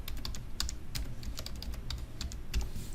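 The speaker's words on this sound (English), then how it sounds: "you need to specify a password like this, hit enter and retype the new password" A password is typed on a computer keyboard during a Raspberry Pi setup, with rapid, close, irregular key clicks and taps continuing throughout, heard alone.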